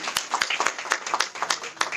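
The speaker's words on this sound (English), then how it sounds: "Can we have him on the stage, please? With a big round of applause." Scattered applause for a guest called onto the stage at a sports club kit launch and gala dinner, with sparse, uneven claps from a modest crowd under faint background chatter.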